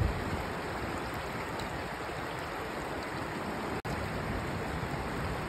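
Water from a mountain waterfall stream near Rishikesh rushes steadily in a dense, constant hiss, close and fairly even throughout while water is collected, with no voices heard.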